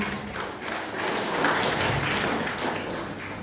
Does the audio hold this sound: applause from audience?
yes